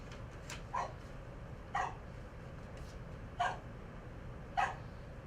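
A dog gives four short, whiny barks spaced about a second apart, fairly faint against a steady low background hum.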